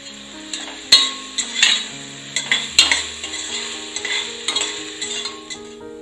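Chopped tomatoes with salt sauté in a pan for brinjal chutney: a soft sizzle under repeated sharp clanks and scrapes of a spatula stirring against the metal, close and without talk.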